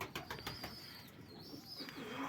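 Pigeons coo softly in low, rolling calls, with faint chirps and light fluttering nearby in a quiet space.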